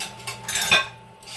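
Metal utensils clink and rattle as someone rummages through a drawer or pile of kitchen tools for a teaspoon measure, in a brief, close, soft burst of clatter.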